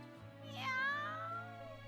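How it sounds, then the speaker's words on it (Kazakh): A cartoon kitten gives one drawn-out, rising-and-falling whiny meow, close and clear, over a low steady background hum. "Жылама, мысығым."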